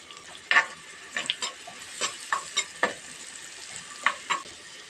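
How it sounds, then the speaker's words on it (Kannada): Onions, tomato and mixed vegetables frying for pulao in a pan, with a steady sizzle and a series of sharp scraping stirs of a spatula against the pan, close and alone with no talk. "ಇದು ಸ್ವಲ್ಪ ಹೊತ್ತು ಫ್ರೈ ಮಾಡುವ ಎಲ್ಲ ವೆಜಿಟೇಬಲ್ಸ್"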